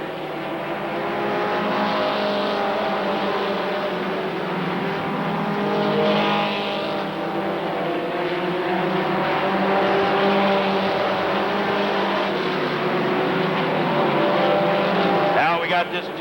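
Stock race cars roar around Rockford Speedway in a close battle for the lead, with a steady, loud engine drone that swells slightly as the pack passes and carries on without a break.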